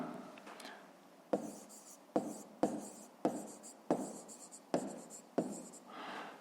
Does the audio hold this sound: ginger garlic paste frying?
no